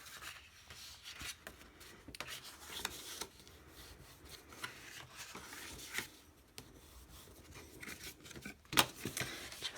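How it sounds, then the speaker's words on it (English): Bone folder creasing and burnishing folds in a paper gift box: soft, close rubbing and scraping strokes with occasional sharper clicks and taps, quiet and irregular. "Now I'm going to get my bone folder and I'm going to fold and burnish."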